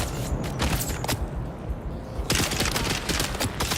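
Dense, rapid bursts of video game gunfire rattle on continuously and loudly, with overlapping shots filling the whole stretch and a sharper flurry of rounds in the second half.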